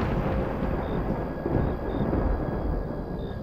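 Thunder used as a sound effect in a Bengali audio story: a low, rolling rumble that holds steady for a few seconds at moderate volume, with no voices over it.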